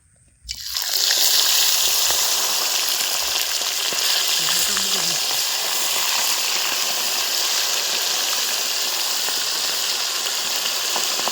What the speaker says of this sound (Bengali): তেল গরম হয়ে গেছে এবার তেলের মধ্যে আমি একটা একটা করে মাছ ভেজে নেবো